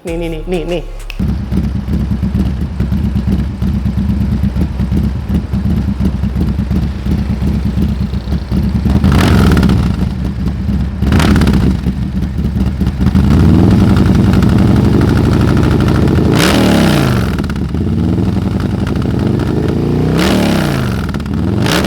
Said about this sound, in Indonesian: Jadi itu tadi suara yang dihasilkan dari mesin 121 Ci stage